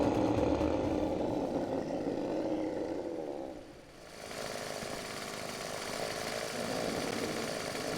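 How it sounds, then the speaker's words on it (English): A chainsaw in Final Fantasy XIV: Stormblood roars loudly, dips briefly, then revs into a higher, brighter buzzing drone that holds steady, alone without talk. "Wait, they have chainsaws in this world?"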